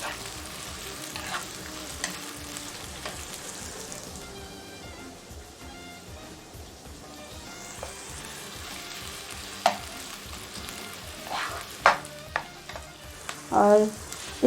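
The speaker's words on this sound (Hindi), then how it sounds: "इसे थोड़ा अच्छी तरह गोल्डन ब्राउन करना है इस प्याज़ों को मैंने।" Onions fry in a pan toward golden brown for a cluster bean keema dish, giving a steady close sizzle throughout with occasional louder stirring scrapes near the end.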